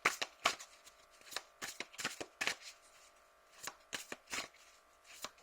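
Oracle cards are shuffled and drawn in a quiet room, giving quick crisp riffles and light flicks in uneven bursts, close and soft.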